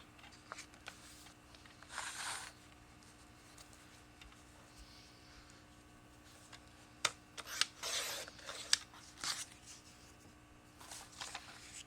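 Scissors cutting paper for a tropical collage, a few faint snips and paper rustles spread through a quiet room, the crisper cuts bunched near the end, no talking.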